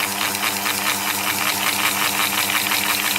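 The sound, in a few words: spinning magnet rotor over wire coils, levitation device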